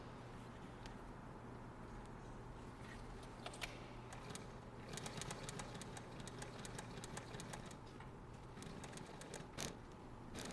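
A Chareco 114CH chainstitch embroidery machine stitches with a steady, quiet mechanical whir and a scattering of soft clicks and taps.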